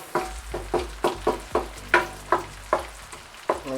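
Mutton rack roast frying in a pan, a spoon scraping and stirring in a steady rhythm of about ten strokes over the low hiss of the oil, close and clear with no talk.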